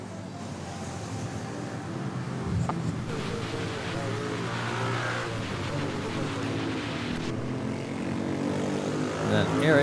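A passenger airliner taxis at Manila airport, its jet engine a steady, fairly loud roar that builds slightly toward the end, with a broad rushing hiss and no talk.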